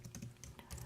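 Rapid keystrokes on a computer keyboard tap in a quick, uneven rhythm, close and faint over a soft background, with no talking.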